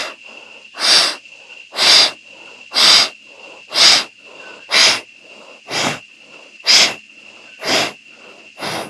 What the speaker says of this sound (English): Deep breaths in and out through the nose.